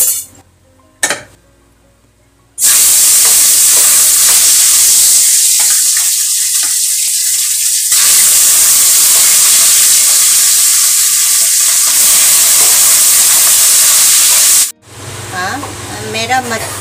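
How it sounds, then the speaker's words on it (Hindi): Pieces of a 3 kg rohu fish frying in hot oil for a Manipuri-style fish curry, a loud, dense, continuous sizzle that holds for over ten seconds after a brief quieter start, then drops off near the end. "मेरा मछली फ्राई हो गया"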